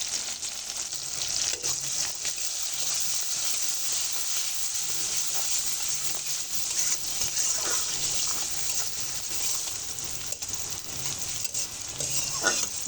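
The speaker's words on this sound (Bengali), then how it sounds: "এই তেলের মধ্যেই দিয়ে দেবো রসুন কুচি, পেঁয়াজ কুচি" Chopped garlic, onion and green chillies fry in oil, giving a continuous loud hissing sizzle with small crackles and occasional stirring.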